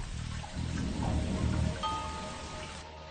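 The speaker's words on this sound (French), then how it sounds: "la ville, comme toute la région côtière, est sous une pluie battante" Heavy rain pours steadily over a coastal town, a dense wash of drops drumming on surfaces that swells slightly in the middle and then eases, heard alone.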